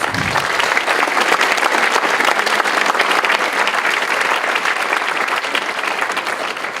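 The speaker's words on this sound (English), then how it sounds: "let's give Dana a huge round of applause" Big round of applause from the audience at a high school math league tournament, dense and sustained clapping filling the room at a steady loud level.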